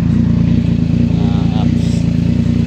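A Yamaha MT-09 motorcycle engine idling close by with a check engine light on, a loud steady rhythmic low thrum that stays even throughout while someone talks over it.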